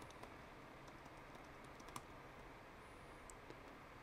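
Someone types an email address on a computer keyboard, giving a quiet, quick run of light key clicks in an irregular rhythm. There are a few sharper taps and no talking.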